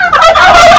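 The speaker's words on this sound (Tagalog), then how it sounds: "Kalangas kid ang pabo dara." Loud, close turkeys gobbling in a rapid, warbling chorus that fills the whole moment without pause.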